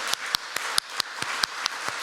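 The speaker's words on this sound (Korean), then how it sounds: "우리 뜨거운 박수로 축하해 주시기 바랍니다." Congregation applauding at a church baptism and confirmation ceremony: sparse, moderately quiet claps from a small group, individual hand strikes spaced irregularly and fairly distinct, with no talking over them.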